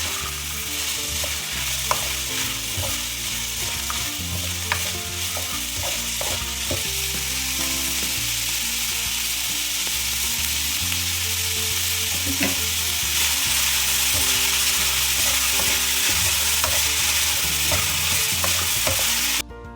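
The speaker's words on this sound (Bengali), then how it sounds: "আমাদের সবজিগুলো ভাজা কমপ্লিট হয়ে গেছে" Vegetables and onions fry in a hot pan with a steady, loud sizzle, punctuated by frequent scraping and clinking as a utensil stirs them throughout, with no talking.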